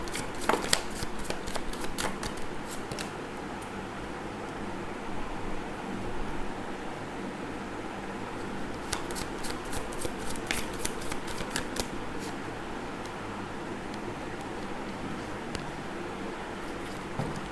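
A deck of cards is shuffled close up in two rapid bursts of crisp riffling clicks, one at the start and another about halfway through, with quiet pauses between and no talking.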